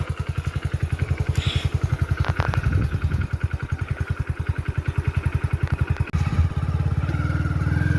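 A motorcycle engine runs with a fast, steady low thumping pulse as the rider gets on and sets off, loud and close, with a short break in the beat partway through.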